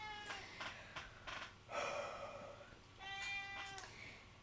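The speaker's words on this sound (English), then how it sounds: "That's Kitty Cat." A cat meows several times in a row, a sequence of clear, fairly close calls with short pauses between them, each meow with a bright harmonic tone, alone without any talking.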